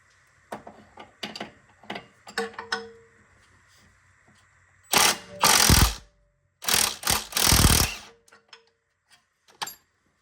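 Ratchet wrench clicking as it backs off a 17 mm nut on the rear suspension of a Porsche 944 during a coilover conversion, with scattered short clicks and then two long bursts of rapid, close ratcheting.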